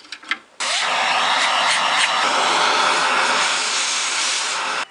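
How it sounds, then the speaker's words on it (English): A vacuum cleaner cleaning an old Gateway motherboard switches on abruptly after a few faint clicks, then roars loudly and steadily close by before cutting off at the end. "Time for a vacuum."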